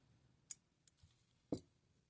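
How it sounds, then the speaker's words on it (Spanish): Scissors snip yarn after a round of amigurumi crochet: two light clicks followed by a firmer close cut, all close and quiet in an otherwise still room. "cortamos nuestro hilo"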